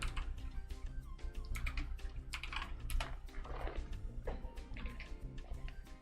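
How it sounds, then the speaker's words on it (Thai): Fast, steady typing on a computer keyboard while entering a name in macro software for a MEXXAR GM-972 mouse, a dense run of close clicks and taps with no talk. "พิมพ์ชื่อจะตั้งชื่ออะไรไปก็ได้นะครับ"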